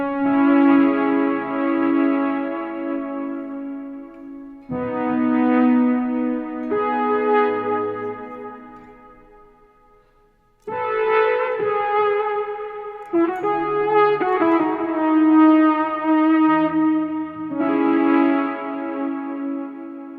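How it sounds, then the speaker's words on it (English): Sustained synth pad chords from a Boss SY-200 synth pedal, swelling and changing in several long sections with a brief fade to near silence midway, loud and alone. "this is the first synth sound that I use quite often, and it's more of a pad sound"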